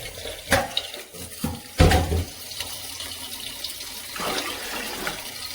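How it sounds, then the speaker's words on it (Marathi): Water is poured into a vessel of chana dal set to soak: short splashing bursts, then a steady trickle with a light clink of a pot, close by and with no voices. "ही हरभऱ्याची डाळ याच्यामध्ये मी वेगळं पाणी टाकणार आहे"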